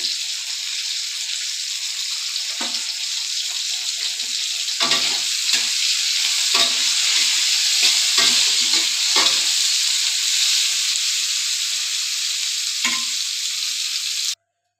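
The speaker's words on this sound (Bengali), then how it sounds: "ফুলকপি তো ভাজা হয়ে গেছে।" Cauliflower seasoned with salt and turmeric fries in hot oil, a steady bright sizzle with repeated scraping stirs from a utensil, close and without talk.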